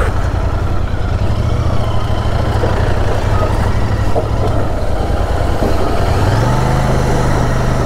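In a traffic jam in Sevoke town, near a river bridge under construction, trucks and cars idle loudly and continuously, close at hand, with engine drone and a brief beeping tone.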